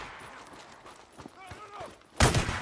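Gunfire in the zombie video game Days Gone, scattered shots under shouting voices, ending with a loud close blast that rings out near the end.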